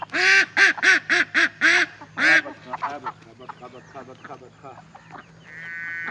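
Ducks quack loudly in a rapid burst of about seven calls as they are chased, followed by scattered fainter squawks and farmyard fowl noises, with a steady tone rising near the end.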